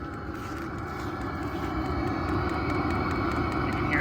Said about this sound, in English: if you've never heard one of these run before, it's like a little baby jet engine is kind of what it sounds like